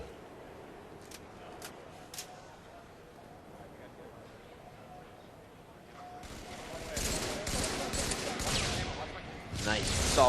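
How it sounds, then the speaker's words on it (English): Battle rifle bursts from a Halo match at a 2008 pro gaming championship: faint, sparse shots early, then dense rapid gunfire building loud toward the end, mixed with game noise and commentary voices. "Nice, solid BR there from Karma"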